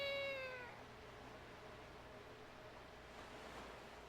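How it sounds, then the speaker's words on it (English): Link gives a short, clear cat meow in The Legend of Zelda: The Wind Waker on GameCube. The cry opens the clip and fades within half a second, leaving a steady wash of ambient game noise like surf. "it's Link making a cat noise to like throw her off the trail"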